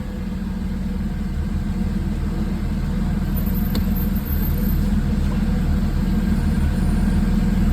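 A supercharged Mercedes-AMG V6 idles on its first startup, a steady, loud low rumble that holds even and continuous throughout with a faint high whine above it.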